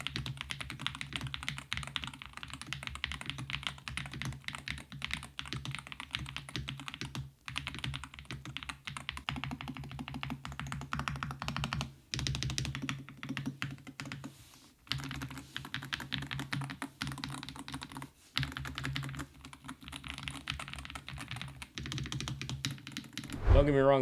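Typing on a Pulsar Hall effect gaming keyboard, a steady run of close, crisp keystrokes with brief pauses between bursts, carrying on for the whole stretch.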